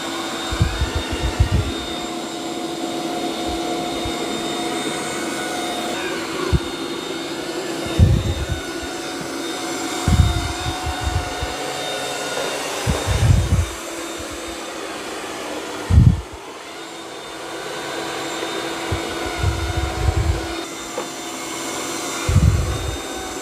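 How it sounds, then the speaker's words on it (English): Eufy robot vacuum and mop running steadily over carpet, a constant whirring motor drone with a high whine, broken by brief low thumps and bumps as it moves back and forth. "It's actually doing a pretty good job of vacuuming this carpet."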